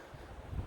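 Wind rushing across an open stretch of the Pacific Crest Trail in Oregon buffets the microphone with a low, steady roar that swells louder toward the end of a very short moment.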